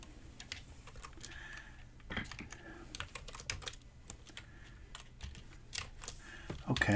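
Someone types fast and steadily on a computer keyboard, making dense, continuous clicking with a few louder keystrokes. The sound is close and moderately quiet, with faint background noise and no talking.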